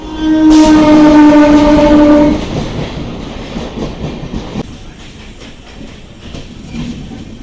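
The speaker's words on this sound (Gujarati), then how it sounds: "તો ફાઇનલી હવે આપણી ટ્રેન આવી ગઈ છે ને ભાઈ" A train horn blares loudly for about two seconds as a train arrives at a station, then the heavy rumble and rhythmic clatter of rolling rail cars continues nearby.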